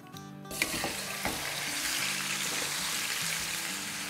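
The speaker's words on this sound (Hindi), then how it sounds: "तो इसको अब हम डाल देते हैं तेल में।" About two kilograms of bone-in chicken dropped into hot oil in a karahi over a high flame, bursting into a loud, steady close sizzle after a few clatters, with no talk.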